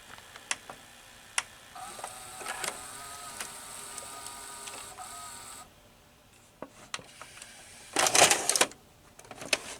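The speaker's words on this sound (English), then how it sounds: "it kind of waits a little bit when you press eject" A Daytron VCR-32DAU VCR mechanism whirs and ticks steadily after eject is pressed, gears running for several seconds before a louder burst of clattering near the end.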